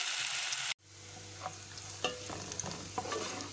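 Onions frying in hot oil until light golden crackle and sizzle close up, with a brief stir at the start, a sudden drop to quiet, then a steady low sizzle and scattered pops, no talking.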